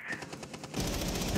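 Rapid gunfire from the Rainbow Six Siege video game, a quick train of sharp reports that swells into a denser, louder burst halfway through, fairly close and with no one talking over it.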